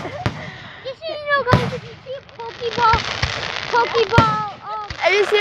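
Video game fireworks pop and crackle in several sharp bursts amid whistling launch tones, spaced irregularly over a few seconds.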